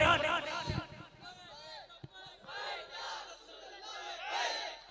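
A religious gathering crowd at a Ramzan bayan shouts back in unison to a Naara-e-Takbeer call, a loud, rough massed roar swelling in waves, mixed with scattered voices.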